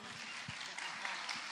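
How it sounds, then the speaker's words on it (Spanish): Faint, steady applause from an audience at a serenade to the Virgin of the Immaculate Conception, a continuous wash of distant clapping with no distinct individual claps. "El aplauso del público, por favor."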